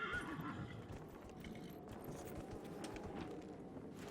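A horse in the video game Dragon Age: Inquisition whinnies loudly at the start, and steady hoof clip-clops continue under it throughout.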